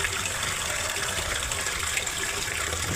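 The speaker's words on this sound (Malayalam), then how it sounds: "മുഴുവൻ വെള്ളം ഊറ്റിക്കളയണം." Cooking water draining off boiled food, a steady close pour of rushing water that holds constant and unbroken from start to finish.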